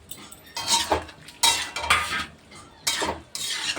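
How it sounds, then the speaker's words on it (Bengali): Fried eggplant pieces tipped into a pumpkin greens curry and stirred with a metal utensil, loud clattering scrapes against the pan in uneven bursts, close and with no talking. "এই যে এবার এর মধ্যে দিয়ে দেবো ভেজে রাখা বেগুনগুলো"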